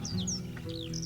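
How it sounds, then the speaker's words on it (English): A bird chirps a few times in quick, thin whistled calls, faint and distant over a low droning background. "In the sky a bird was heard to cry."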